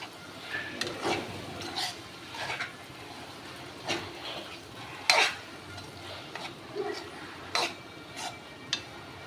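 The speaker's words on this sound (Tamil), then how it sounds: "இதை ஆட் பண்ணிக்கோங்க ஆட் பண்ணி ஜென்டில் மிக்ஸ் பண்ணி விட்டுக்கோங்க" Steamed egg being gently stirred into an egg side dish in a pan, with soft, scattered scraping and clinking of a utensil against the pan, faint and intermittent with no voices.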